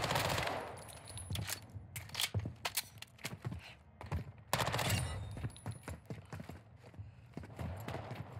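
Rapid bursts of TAQ 56 SMG fire in Warzone 2 (Modern Warfare 2), several sharp clusters of shots spread across the clip with short gaps between them, close and punchy.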